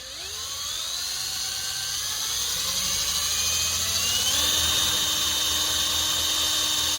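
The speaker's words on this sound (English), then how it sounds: "I'm going to start with a small bit for a pilot bit to get the hole" A power drill with a small pilot bit bores into a steel rod for a 1970s Ford pickup spare tire carrier lock, a loud steady whine that rises in pitch and runs continuously up close.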